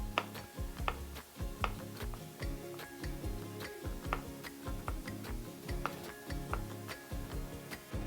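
A knife slices button mushrooms on a cutting board, each cut landing as a crisp tap in a quick, even rhythm of about two strokes per second, close and clear.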